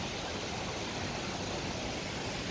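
A small river flows through a park, a steady, even hiss of running water with no change in level, close and continuous, no voices.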